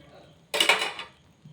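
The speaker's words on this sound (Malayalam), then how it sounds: "എന്നിട്ട് ഇതുപോലെ ഒന്ന് ഇളക്കി കൊടുക്കുക." A spoon stirs koottu curry with vada in a pot, making one brief burst of metallic clatter and scraping in the middle, with near-silence before and after.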